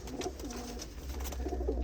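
A pigeon coos in low, throaty rolling phrases, fairly close and soft, repeating over a steady low background hum with no one speaking.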